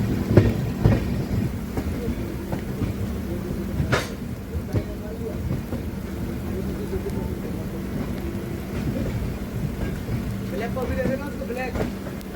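Steady heavy rain hisses and patters continuously with a low rumbling hum underneath, punctuated by occasional sharp taps, while someone speaks over it, aboard a train beside a freight train on the next track.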